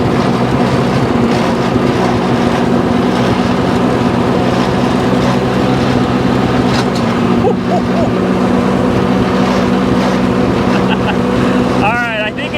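A 1986 Corvette engine pulls in second gear, a loud, continuous droning roar with a steady hum throughout, slightly easing near the end, with no talk over it.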